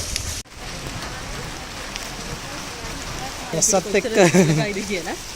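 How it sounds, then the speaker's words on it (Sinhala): Rain falls steadily on the trail up Adam's Peak in Sri Lanka, a constant close patter that carries on while people talk toward the end. "වහින එක තමයි දැන් මෙතෙන් තියෙන ලොකු ප්‍රශ්නේ"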